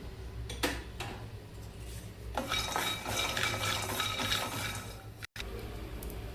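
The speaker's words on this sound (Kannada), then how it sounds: "ಕಡಲೆಕಾಯಿ ಬೀಜ ಒಂದು ಅರ್ಧ ಕಪ್ಪಷ್ಟು ತೊಗೊಂಡಿದ್ನಲ್ಲ ಅದು ಹಾಕೊಂಡು ಫ್ರೈ ಮಾಡ್ಕೊಂಬಿಡೋಣ" About half a cup of peanuts is fried in a pan, with close rattling, clinking and scraping as they are stirred against the metal, a steady busy clatter with a brief drop near the end.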